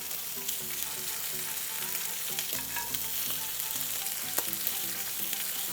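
Ribeye steaks sizzling and spitting in a hot pan as they are basted with butter and garlic, a steady loud frying hiss with scattered pops and faint scraping throughout.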